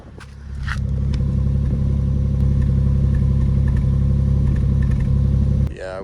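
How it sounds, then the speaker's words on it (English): A car engine idles steadily with a very slight misfire, a loud continuous low rumble heard up close with the bonnet open, running evenly for several seconds before a sudden drop at the end. "we definitely have a misfire"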